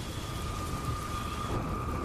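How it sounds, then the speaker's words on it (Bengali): Heavy rain pours steadily outside in a cartoon ghost story, a continuous dense hiss with a low rumbling undertone, even and unbroken throughout, with no voices. "বাইরে তখনও ঝমঝম করে বৃষ্টি পড়ছে"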